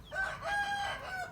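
An Indian game rooster crows once in a long, wavering call, close by and loud, with low background rumble.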